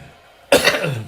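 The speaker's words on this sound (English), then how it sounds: "Trying to clear my throat." A single abrupt throat clearing by a baseball game announcer, close and fairly loud, following a moment of near silence.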